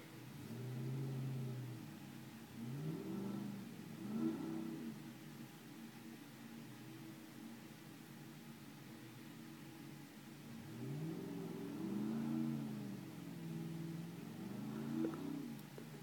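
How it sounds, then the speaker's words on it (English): A Cadillac Escalade stuck in roughly 18 inches of snow in New Jersey revs repeatedly, its engine rising and falling in rocking surges heard from some distance, rather faint with no talking. "Go ahead, blow the motor, Abe."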